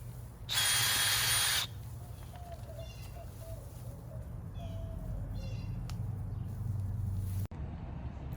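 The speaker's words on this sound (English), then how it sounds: "I've got my tools, I got my irrigation, I've got my trusty auger planter" An auger planter bores a hole in garden soil for hibiscus planting, a single loud whirring burst of about a second up close, followed by outdoor ambience with faint birdsong.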